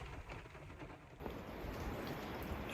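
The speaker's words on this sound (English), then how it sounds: "but raining again" Steady rain falls during a foul-weather hunt, a faint, even hiss that grows slightly denser midway, with no voices.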